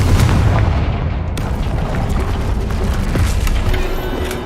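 Fiery Confringo spell blasts in Hogwarts Legacy, a dense run of loud booming explosions rumbling continuously without pause, with no voices.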